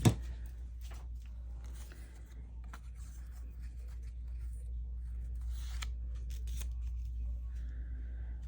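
Scissors cut out a paper tag during a craft journaling session, a close, quiet series of soft snipping and rustling strokes over a low steady hum.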